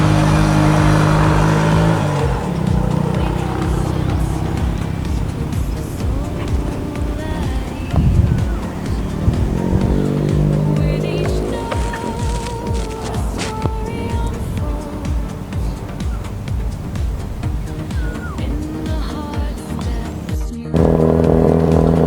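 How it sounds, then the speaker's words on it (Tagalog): A motorcycle engine-brakes down the winding Snake Road in Calamba, Laguna, producing a continuous loud drone whose pitch shifts with the revs, with wind noise and some voices underneath. "todo engine braking ginagawa niyan"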